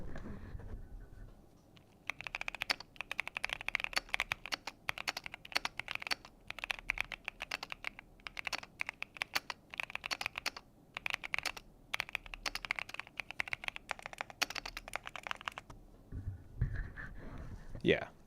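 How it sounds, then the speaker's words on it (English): Rapid, dense typing on a Crush 80 Reboot Pro mechanical keyboard, crisp clacky keystrokes in bursts, close up, with brief pauses and a little handling noise at the end. "Now listen to my keyboard."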